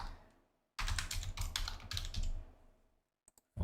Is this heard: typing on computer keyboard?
yes